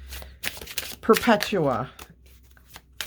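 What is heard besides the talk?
shuffling a deck of tarot cards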